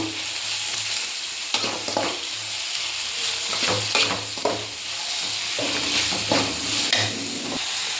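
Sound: tomatoes frying with onions in a pan

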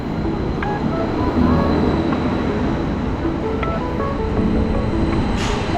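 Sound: train arriving at platform

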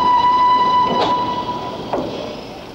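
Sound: railway wagons rolling through a marshalling yard retarder

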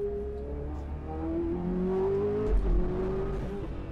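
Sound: sports car engine revving loudly

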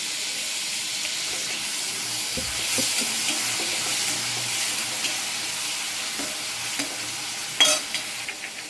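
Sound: chopped tomato and onion sautéing in a pan

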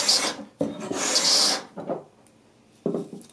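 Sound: Veritas scraper scraping wood

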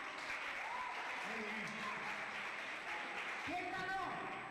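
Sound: applause for the children

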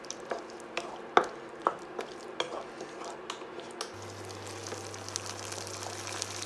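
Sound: stirring a prawn and sauce mixture

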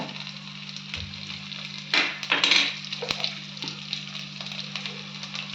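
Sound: mustard, cumin and crushed garlic frying in pan

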